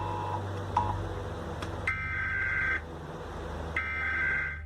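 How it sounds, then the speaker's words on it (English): Emergency alert broadcast test tone: two loud, steady electronic beeps, each lasting about a second, separated by a short pause, preceded by a few faint short blips. "a graphic accompanied with beeping comes on the screen and says this is only a test"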